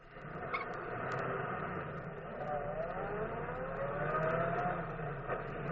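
A car engine runs steadily in an old radio drama, a low continuous hum that swells and whines slightly as it revs, with small clicks at the start, under faint background noise.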